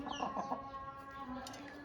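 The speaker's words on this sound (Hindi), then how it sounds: "और बहुत ही खूबसूरत जनाब मुर्गा शौक़ से रखे हुए हैं।" Chickens cluck with a rooster among them in a yard of kept fowl, a few close, loud clucks at the start followed by a sustained tonal call.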